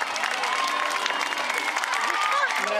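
Schoolchildren and adults at a Holocaust Remembrance Day event at a school in Foggia, Italy, applaud after the mayor's speech, dense continuous clapping with a few cheers, loud and steady throughout.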